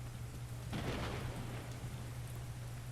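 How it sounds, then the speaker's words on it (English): Rain in the video game The Division 2 pours as a steady hiss over a low constant hum, with a brief swell of louder downpour early on, no talking. "Of course, now it's raining."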